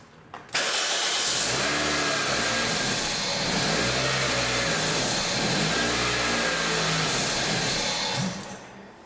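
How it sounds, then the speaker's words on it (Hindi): A car engine cranks and catches, then runs steadily at a loud, rough idle for several seconds before cutting off. The car is being checked for an ECM transistor/driver fault. "तो स्टार्ट करूँगा गाड़ी को।"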